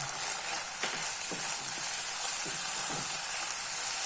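Sabudana khichdi sizzles steadily in a hot pan as chopped coriander is tossed in, a constant frying hiss broken by a few soft stirring taps.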